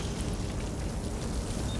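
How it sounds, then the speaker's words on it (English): Sprinklers spray water in The Division video game, a steady dense hiss of falling water like rain that continues evenly throughout. "Activate the sprinklers."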